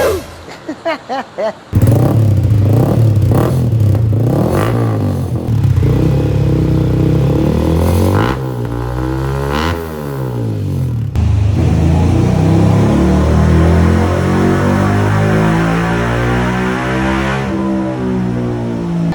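A Yamaha Sniper motorcycle at a shop for accessory fitting: a few short engine blips, then sustained revving with rising and falling pitch, a hard throttle swell, and a steady high idle, loud and close.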